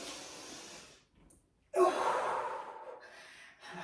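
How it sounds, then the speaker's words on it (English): A forceful exhale bursts out during heavy lifting, loud and close, a breathy rush that tapers over about two seconds after a brief quiet gap, with softer breathing before it. "Big exhale at the top there."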